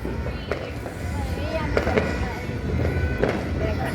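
Scattered sharp cracks and pops of New Year firecrackers and fireworks go off near and far over a steady background of chatter and crowd noise.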